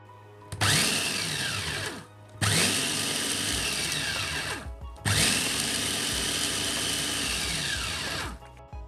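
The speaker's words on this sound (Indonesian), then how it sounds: "seperti biasa saya menggunakan chopper andalan dari Mitoshiba" A Mitoshiba electric chopper blending broth powder ingredients with salt whirs loudly in three separate bursts of about two to three seconds each. Short pauses separate the bursts, and the motor pitch sweeps as each burst starts and stops.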